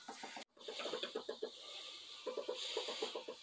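Chickens cluck nearby in short repeated bursts, a soft busy chatter of several birds with a brief gap early on, on a sheep farm.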